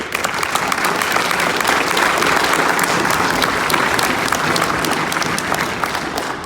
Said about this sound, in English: don't start clapping because y'all going to make me feel like I'm saying something special here